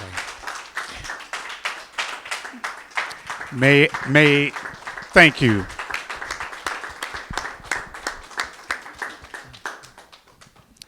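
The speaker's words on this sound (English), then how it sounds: "let's give this man a round of applause." Scattered, modest applause from a small audience at a literary event honoring an author, individual claps audible throughout, with someone talking briefly in the middle.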